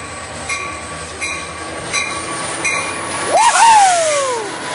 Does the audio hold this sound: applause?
no